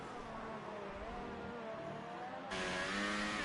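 F1 2018 video game Formula car with DRS open accelerating down the back straight of the United States GP circuit, a steady high-pitched engine whine that rises and grows louder partway through, with no talk.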